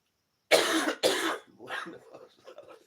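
Two loud, harsh coughs close together, followed by a few quieter rough coughing and throat-clearing sounds trailing off.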